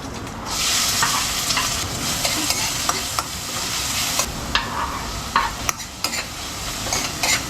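Cumin seeds frying in hot oil in a home kitchen, a steady close hiss with scattered sharp pops and crackles throughout, no talking.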